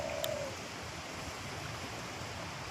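Strong wind blowing over the Utnuwa river in Assam makes a continuous, even rushing roar like buffeting noise, with no breaks and no talk.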